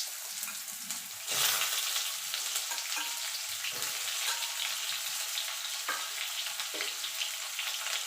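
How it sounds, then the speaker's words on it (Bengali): Chopped ridge gourd hits hot oil already spiced with dried red chillies, bay leaf and cumin, giving a loud hiss that settles into a steady close sizzle, with stirring clatter at intervals. "দিয়ে ঝিঙেটা একটু ভাজা ভাজা করে নেব।"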